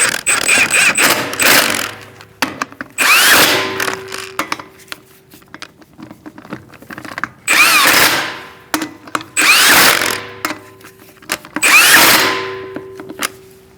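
Power tool tightening wheel lug nuts on a 2006-2011 Chevrolet HHR, making five loud whirring bursts of one to two seconds each, separated by short gaps with faint clicks.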